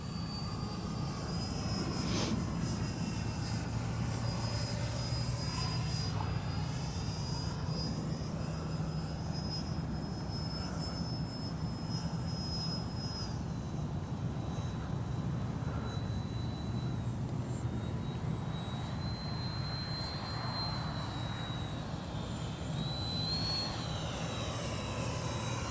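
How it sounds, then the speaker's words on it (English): An E-flite 64mm Viper RC jet flies a slow pass with landing flaps down, its electric ducted fan giving a steady, continuous whine and rush that stays loud and even throughout. "I'm going to show you how incredibly slow this little jet can"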